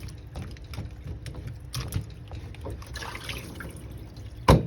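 Cooked, softened okra being drained of its water, a soft steady trickle and dribble of liquid running off continuously, close and fairly quiet, ending in a brief louder clatter.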